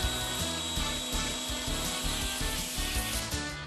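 Milling machine taking a final light contour pass of about 50 thousandths on a part, a steady grinding cutter drone with rhythmic pulsing, close and continuous without speech.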